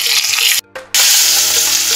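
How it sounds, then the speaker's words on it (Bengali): Fish sizzle loudly in hot oil in a pan, a dense crackling hiss that cuts out for a split second before resuming at full strength. "বন্ধুরা তেল গরম হয়ে গেছে, মাছগুলোকে ভালোভাবে ভেজে নেব।"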